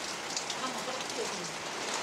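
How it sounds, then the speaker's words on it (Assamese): Rain falls steadily as a dense, even hiss of drops on surfaces, moderately near, with no other sound standing out. "বৰষুণত দেখিছে গাইজ কি বৰষুণ"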